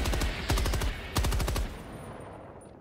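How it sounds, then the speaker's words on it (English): Rapid automatic gunfire in Helldivers 2 as players shoot at bugs, two dense bursts of close, loud shots with a brief pause between, then trailing off into a fading reverberant tail. "I wonder what happens when we start just shooting them."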